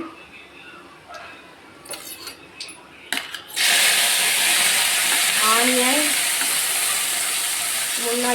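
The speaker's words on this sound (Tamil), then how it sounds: "இப்போ கடுகு பொறிஞ்சிருச்சு" Mustard seeds spluttering in hot oil while cooking paniyaram: a few clinks and clatters first, then a sudden loud, steady sizzle with dense crackling pops that lasts to the end, with a brief faint voice partway through.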